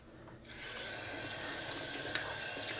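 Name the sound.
tap water running while washing a G-Shock watch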